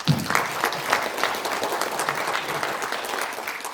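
Audience applause fills a large conference hall at a rally, a dense, steady wash of many hands clapping at fairly close range that holds evenly for several seconds without talk.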